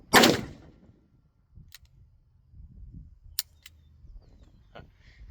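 A Smith & Wesson 629 Classic .44 Magnum revolver fires one sharp, loud shot at the start, followed by quiet handling clicks and faint rustling.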